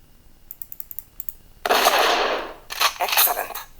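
Gunfire from the Jagged Alliance 2 video game during a nighttime battle: a string of faint soft clicks, then a loud, sustained burst of shots and a second rougher burst, close and dominant with no talk.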